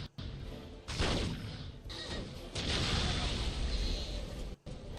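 Basilisk artillery pieces firing in a video game, heavy booming blasts arriving in bursts with rolling rumble between them, loud and close, with a voice faintly underneath.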